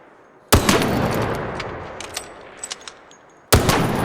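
Two loud, sharp shots from an Osprey sniper rifle in the video game Arc Raiders, spaced about three seconds apart, each a sudden crack with a lingering echoing tail and faint scattered game sounds between them.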